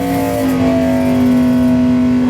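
A Superstock Camaro drag car roars down the strip at a Can-Am drag racing event, its engine holding a loud, steady high-revving drone throughout with no talk over it.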